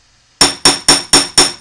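A hammer flattens jewelry-making wire with five sharp, ringing metallic strikes in a steady, evenly spaced rhythm, each blow loud and close with a short decaying ring.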